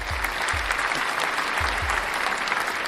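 Applause sound effect played over a scale modelling live stream, a dense crowd clapping at moderate level with a few low thumps underneath.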